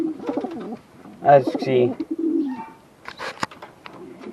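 Fantail pigeons cooing inside a loft, soft low coos rising between stretches of someone talking close by, with a few brief chirps near the end.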